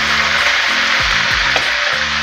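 Ginger garlic paste frying with chopped capsicum in a pan, a loud close hiss of hot oil with regular scraping strokes of a spoon stirring every half second or so, no speech.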